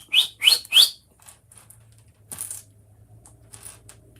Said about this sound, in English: That's a lippy little chirp from a bird.